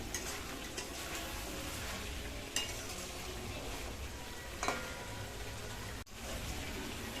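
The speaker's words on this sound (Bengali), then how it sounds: "আমাদের এখানে মাংসটা কষা হচ্ছে খুব সুন্দরভাবে দারুণ" Country chicken meat sautéing in a pan for kosha, a continuous close sizzle with scraping stirs and a few soft clinks of a spoon against the pan.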